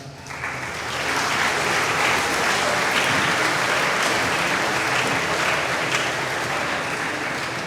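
Audience at a school assembly applauding, a broad steady wash of clapping that swells in within the first second and holds loud and dense to the end.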